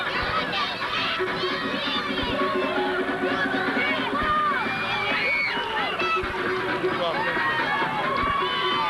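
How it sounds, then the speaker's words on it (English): Dense, roaring wrestling crowd at an EPW indoor event cheering for Alexander Bagwell, a sustained wash of many voices with shouts and whistles rising throughout, loud and close with a commentator's voice over it. "The crowd loves Bagwell."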